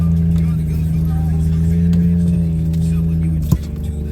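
Jeep Cherokee with a loud, freshly worked muffler climbing a wooded four-wheeler trail, a steady droning exhaust hum with a slight bump near the end.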